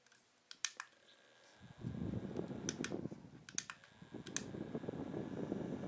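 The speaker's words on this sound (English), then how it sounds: "So that's the Etmury Mini Fan." A small Etmury mini fan runs with a steady, close whirring hum after a few sharp handling clicks at the start, and occasional clicks continue over the airflow.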